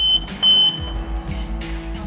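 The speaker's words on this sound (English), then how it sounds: "I would have ripped out that buzzer" A borrowed laser level's buzzer beeps in short, shrill tones near an abandoned yacht's hull, piercing over a low background rumble, with a couple of distinct bursts early on.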